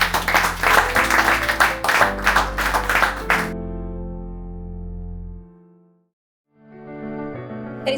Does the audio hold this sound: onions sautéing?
no